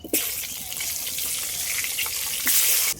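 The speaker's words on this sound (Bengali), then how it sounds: "এবার আমি আলুটা ভেজে নেব।" Potatoes fry in hot oil seasoned with turmeric and salt, a close, bright sizzle that holds steady for the whole stretch and swells louder just after the start and again near the end.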